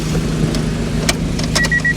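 A Honda Del Sol engine runs with a newly fitted fuel pump and a fuel leak, giving a steady, close low-pitched hum with a few brief higher clicks and whines over it.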